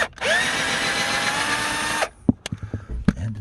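A power drill fitted with a 5/16 socket runs in one steady, loud two-second whine while backing out bolts on a Ford C-Max Hybrid SE, then stops, leaving a few sharp clicks and knocks of the tool and bolt.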